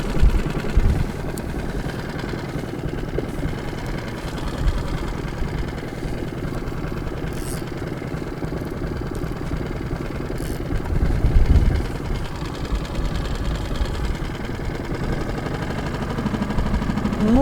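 A boat outboard motor runs steadily while trolling for pike, a constant low droning hum with slight vibration that stays even throughout with no talking.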